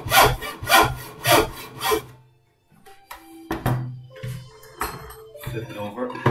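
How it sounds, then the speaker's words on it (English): Hand saw cutting wood clamped low in a bench vise, a run of rhythmic rasping strokes that pause, then a second burst of uneven strokes with light knocks, close and fairly loud. "remember to saw on the X side of the line."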